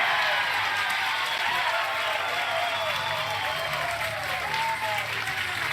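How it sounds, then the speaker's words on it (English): Big crowd applause with cheering at a women's professional bowling tournament final, a dense continuous roar of clapping throughout, with commentators talking over it. "Big crowd applause on that one from Missy."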